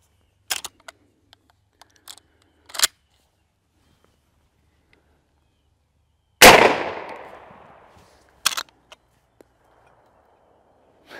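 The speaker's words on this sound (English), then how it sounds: "we're going to shoot it from a bona fide 410 shotgun." A .410 smoothbore shotgun fires a single shot shell outdoors, a loud close blast with a long decaying echo, set among scattered handling clicks and a few sharp taps before and after.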